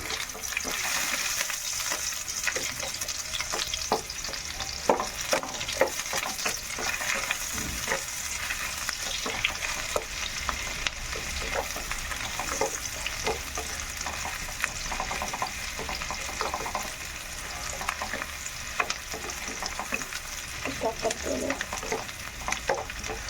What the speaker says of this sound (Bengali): লঙ্কা একটু তাড়াতাড়ি দিয়ে দিচ্ছি লঙ্কা একটু ভাজা ভাজা হয়ে